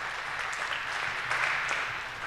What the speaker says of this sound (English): Give yourself a warm applause because you're in here while the weather outside is really great.